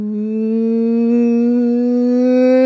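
A voice imitates a Suzuki motorcycle with a sustained, rising engine-like hum, close and steady, growing slightly louder as the pitch climbs.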